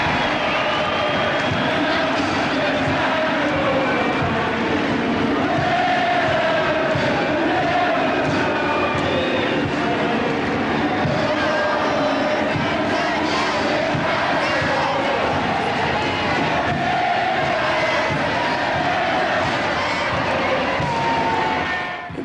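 A large crowd on small boats cheers and shouts as ships sail in at the end of the Falklands War, a dense, continuous roar of many voices with no break.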